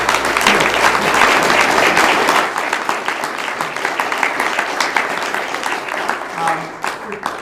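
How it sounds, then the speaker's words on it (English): An audience at a panel discussion breaks into loud, sustained applause, many hands clapping densely together before the sound thins slightly and carries on steadily to the end. "deserve a tremendous round of applause"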